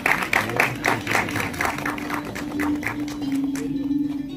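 Audience applause at an album song promotion event: a quick run of rhythmic claps near the mic, thinning into scattered clapping while a steady tone hums underneath.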